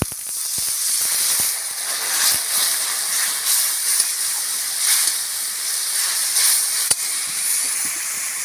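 Water poured into a hot pan of spiced chilli masala sends up a loud, sustained steam hiss, with occasional faint clicks and ticks from the pan over several seconds.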